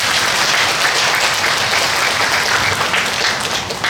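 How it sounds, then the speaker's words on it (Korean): A crowd of parents applauds steadily after a lecture, dense clapping filling the room at an even level for a few seconds. "다시 한번 큰 박수 부탁드립니다"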